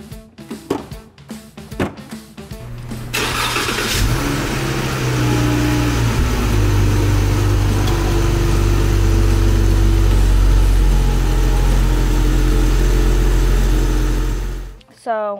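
After a few voices and clunks, a car engine cranks and starts, then idles steadily with a low hum for several seconds before shutting off.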